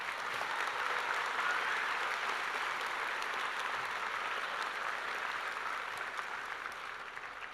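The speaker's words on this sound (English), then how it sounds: "Let's give them another round of applause." Sustained, dense applause from an audience at a 2025 high school graduation ceremony, steady and fairly loud throughout, tapering slightly at the end, with no talking over it.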